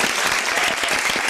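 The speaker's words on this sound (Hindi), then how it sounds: "एक मिनट पहले ताली मैं बजाऊंगा" An audience applauds throughout at a talk-show interview, dense steady clapping filling the whole moment, fairly loud and close.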